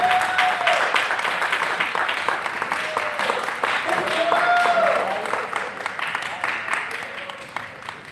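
A panel-discussion audience keeps up its applause for a panelist heading to the stage, a continuous clatter of many hands with voices talking over it, fading slightly toward the end.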